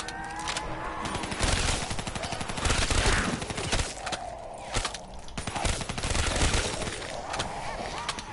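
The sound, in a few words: gunfire in Call of Duty Black Ops 3 Zombies video game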